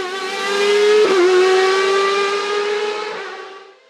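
Hill-climb racing prototype with a motorcycle engine, a Tracking RC01B, gives a single loud, high-revving wail close by that holds nearly constant pitch, then fades away as it passes.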